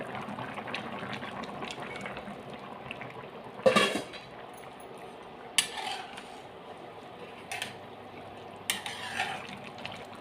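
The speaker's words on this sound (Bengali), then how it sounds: "এবার ঢাকাটা তুলে নেব" A cooking pot lid comes off a jackfruit and potato curry that has been simmering, giving a sharp metallic clank near 3.7 seconds, then a few lighter knocks and rattles over a steady low bubbling hiss.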